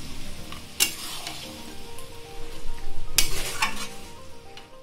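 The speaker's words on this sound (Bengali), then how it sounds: "এবার আমি এর মধ্যে একটু জল দিয়ে দেব।" Chili chicken masala sizzles and fries steadily in a pan at home, a low continuous crackle broken by two sharp splashing hisses as water goes in. No one speaks.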